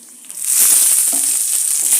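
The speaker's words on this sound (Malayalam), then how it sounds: "ഒരു സ്പൂൺ പെരുംജീരകം ഇട്ടിട്ട് പൊട്ടിക്കുക." Fennel seeds splutter and crackle in hot oil for a potato masala, a dense, steady sizzle that swells in after a quiet start and keeps popping close up with no talking.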